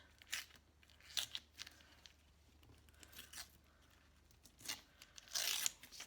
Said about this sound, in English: then you tear down the fold